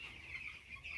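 Young broiler chickens on a poultry farm, suffering from coccidiosis and enteritis, make a quiet continuous clucking and cheeping, faint and brief with no voices.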